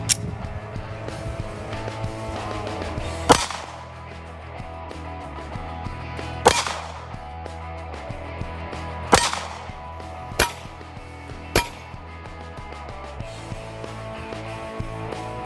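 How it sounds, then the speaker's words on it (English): Several sharp, loud 9mm pistol shots from a Glock 43X ring out at irregular intervals, each striking a Scorpion Tactical AR500 level III steel armor plate, with a few fainter ticks between them and no talk. "Let's see what a 9mm does to the Scorpion Tactical AR500 level 3 plate."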